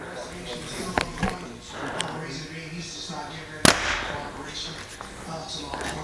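Compound bow shots comparing a Hoyt Axius Ultra and a Prime Black 5: one sharp, loud release snap near the middle, with fainter clicks earlier, under background talk and room noise.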